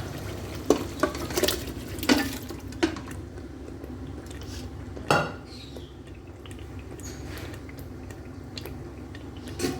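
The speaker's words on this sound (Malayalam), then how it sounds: "ഈ സമയത്ത് നമ്മൾ നമ്മുടെ പോർക്ക് ഇതിലേക്ക് ചേർത്ത് കൊടുക്കുകയാണ്." Pork tipped into masala sautéing in a pan, heard as a few sharp clanks and scrapes of a utensil on metal over a low, steady sizzle, close and moderately quiet.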